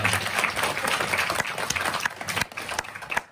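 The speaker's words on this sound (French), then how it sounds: "on peut applaudir Valentine d'abord" Studio audience applauding Valentine during a special Radio Don 2019 charity broadcast, a dense steady burst of many hands clapping close by, fading slightly near the end.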